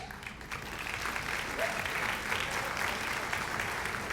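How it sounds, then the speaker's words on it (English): Audience applause at a community college scholarship night, a steady wash of clapping that swells and holds throughout as a soccer scholarship is presented, with no speech over it. "Hold your applause for the list."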